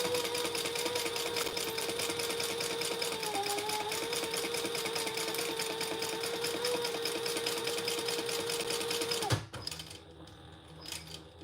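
A home sewing machine top-stitches the sides of fabric slip pockets, running steadily at an even hum for about nine seconds before stopping abruptly, leaving a quiet room.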